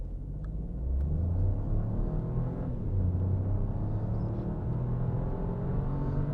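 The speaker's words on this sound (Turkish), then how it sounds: "Dip gaz yaptım." Peugeot 208 with a 1.2-litre 100 hp engine and automatic gearbox accelerating hard at full throttle from standstill, a steady loud low engine drone and road rumble rising through the gears, heard from inside the cabin.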